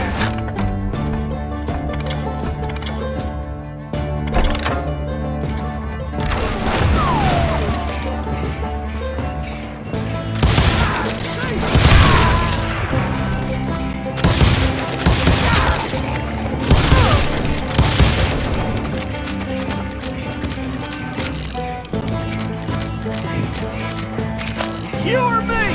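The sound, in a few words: gunfire from hired guns in video game Call of Juarez Gunslinger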